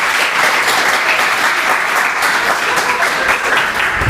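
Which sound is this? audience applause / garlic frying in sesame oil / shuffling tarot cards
audience applause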